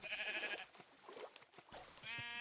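Sheep bleating in the Minecraft video game, a few short wavering bleats with quiet gaps between, clear but fairly faint.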